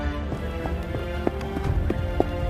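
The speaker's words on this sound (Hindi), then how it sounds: "एक सैनिक घोड़े से उतरकर अभिमन्यु की ओर देखकर क्रोधित होकर बोला" Horses carrying soldiers arrive at a brisk trot in a cartoon scene, their hooves clip-clopping in a quick, steady rhythm, close and clear.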